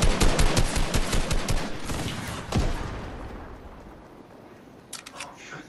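Rapid gunshots in the game Fortnite during squad play, a fast loud volley of shots that thins into scattered cracks and a fading tail, with a few sharp shots near the end.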